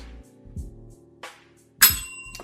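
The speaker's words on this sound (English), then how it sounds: "Ring the bell." A bell is struck once in a radio talk show studio, giving a bright, sharp ding that rings on for a moment after a few soft knocks and rustles.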